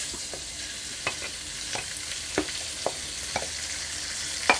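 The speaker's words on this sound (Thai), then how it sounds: "เอาหมูลงไปผัดให้สุก" Pork frying with garlic in a pan, a continuous soft sizzle punctuated by sharp periodic scrapes and taps of the spatula stirring, close up and without voices.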